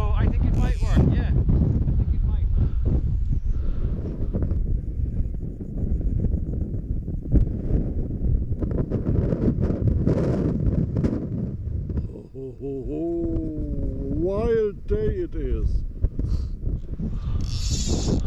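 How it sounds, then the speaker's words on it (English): Strong wind buffets the microphone on a lakeshore during a fishing outing, a loud continuous low rumble throughout, with voices talking over it and a brief bleat-like animal call near the end. "It's windy, but the wind isn't from the worst direction in the world."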